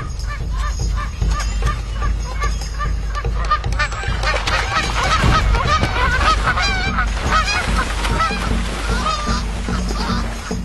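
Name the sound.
Canada geese honking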